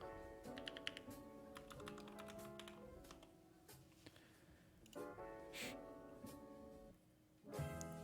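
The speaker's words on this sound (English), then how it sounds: "I keep typing on the wrong keyboard." Quiet computer keyboard typing comes in bursts of quick clicking keystrokes, with short pauses between runs and no talk.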